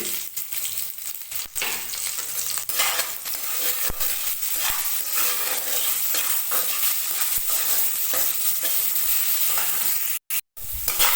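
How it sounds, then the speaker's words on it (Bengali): Eggplant slices frying in hot oil in a pan for a Bengali shukto, giving a steady, loud sizzle that holds throughout, with a brief cutout near the end. "আর বেগুন ভেজে নেব।"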